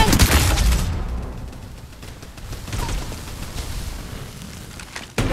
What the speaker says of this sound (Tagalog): Nakikipagpalitan ng putok.